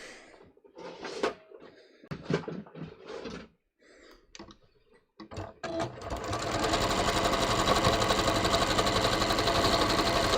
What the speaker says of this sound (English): I'm literally just going to stretch this until the fabric is laying flat and smooth, and I'm going to start stitching